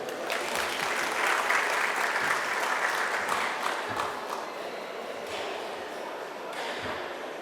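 Sustained applause from an audience at the opening ceremony of a mining and energy trade fair, steady and broad, greeting an introduced speaker, with some voices mixed into the clapping.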